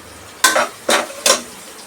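Onions frying in ghee in a pan, heard as three short, sharp scraping stirs spaced evenly over a faint background sizzle, close by.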